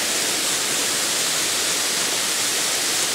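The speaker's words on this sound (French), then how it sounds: "Et il y a même une bien jolie cascade à proximité." A waterfall dropping the full height of a canyon near a church gives a loud, dense, unbroken roar of falling water that fills the scene steadily.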